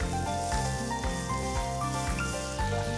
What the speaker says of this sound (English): now we'll add 2 medium onions that are finely chopped. You need to saute them till they are translucent.